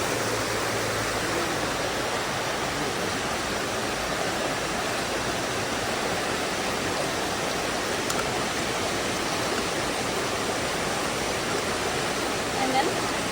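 River water rushes steadily as a sampler is lowered into it, a dense unbroken broadband roar at constant loudness throughout.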